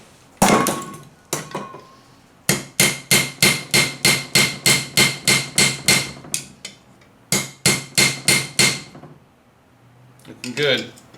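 A hammer flattens a small piece of metal for a mini grappling hook, delivering a steady run of loud, ringing, evenly spaced blows in two bursts after a few opening strikes, with a voice briefly at the end.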